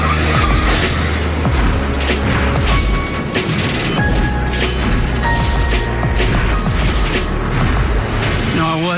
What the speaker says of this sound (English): When Curtis Turner flipped that Chevelle at Atlanta